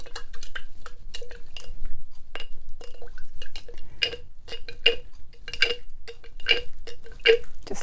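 Water-based paint gets stirred and flicked, a brush tapping and clinking against a hard palette or jar in quick irregular strikes, with a few brighter glassy knocks over a quiet background.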